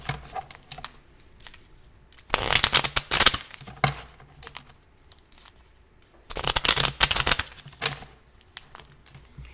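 Tarot cards shuffled in two brisk bursts of rapid crisp riffling and flicking, close and fairly loud, separated by quieter stretches of soft handling noise.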